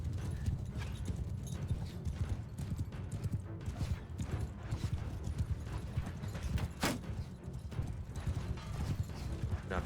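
Cavalry horses galloping in the video game Mount & Blade 2: Bannerlord, a dense continuous clatter of many hooves with occasional neighs amid battle noise.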